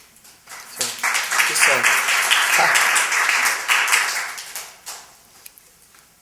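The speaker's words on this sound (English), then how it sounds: "It's so lovely that y'all clap after every poem." A poetry-reading audience claps after a poem: the applause swells quickly into a dense, steady patter, holds for several seconds, then thins and fades out. A few voice sounds come just before it.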